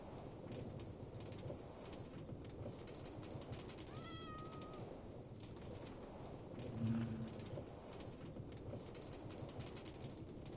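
A cat meows once in Minecraft, a short rising-falling call set against a quiet, steady game backdrop with faint ambient noise.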